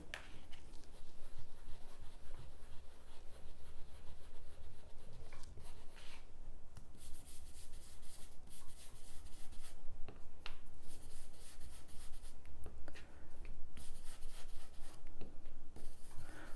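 Pencil lead scratching gently across thin scrap paper, a close, soft, continuous rasp of short strokes with brief pauses between passes.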